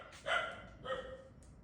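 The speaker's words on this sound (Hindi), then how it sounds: "और देखो बाहर सारे डॉगी कैसे भौंक रहे हैं।" Dogs barking outside, two short barks about half a second apart, moderately distant and fairly quiet, with no other sound around them.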